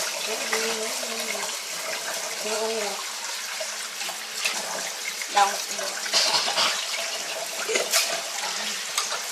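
Water from a tap runs while washed dishes are rinsed, a steady moderate splashing flow with clinks and bumps, as children and adults talk over it throughout.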